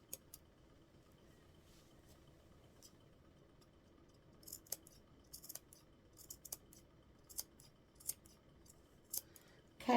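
Guggenheim scissors cut through thick layers of fabric for baby burp cloths. The close, crisp snips come in irregular bursts and grow busier toward the end, over a quiet room with no talking.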